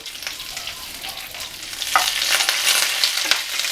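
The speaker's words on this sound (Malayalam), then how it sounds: "ഇപ്പൊ എണ്ണ ചൂടായിട്ടുണ്ട് ഇനി നമുക്ക് ഇതിലേക്ക് കടുക് ഇട്ട് കൊടുക്കാം രണ്ട് മൂന്ന് കറിവേപ്പില രണ്ട് വറ്റൽ മുളക്" Mustard seeds, curry leaves and dried chillies sizzle loudly in hot oil for a tempering, a close, steady hiss with sharp pops and crackles that grow denser toward the end.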